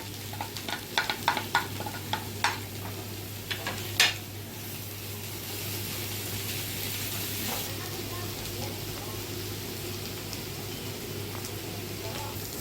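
Onion, grated carrot and bell peppers sauté in a pan: a run of quick spoon clacks and stirring knocks comes first, then a steady low frying sizzle carries on alone, close and moderate in level.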